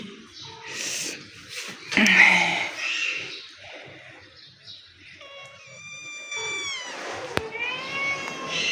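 Several cats meow and yowl close by, a string of drawn-out, rising cries with some scuffling noise between them.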